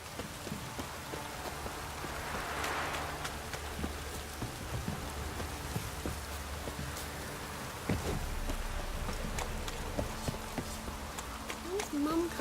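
Steady downpour in The Witcher 3 video game, a constant rain hiss with scattered drops and hoof clops, with talk mixed in.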